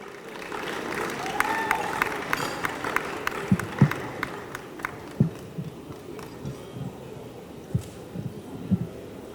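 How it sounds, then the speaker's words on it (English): Moderate applause from an audience at an awards ceremony, with scattered sharper individual claps standing out over a low crowd murmur and faint talk in the background. "Let's give her a round of applause."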